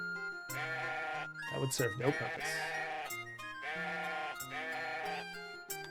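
Sheep in the Sierra adventure game Conquests of the Longbow give several drawn-out, wavering bleats in a row, loud and close, and a character briefly speaks between them.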